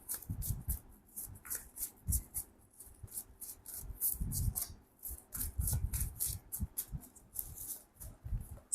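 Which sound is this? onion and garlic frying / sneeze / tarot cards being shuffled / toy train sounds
tarot cards being shuffled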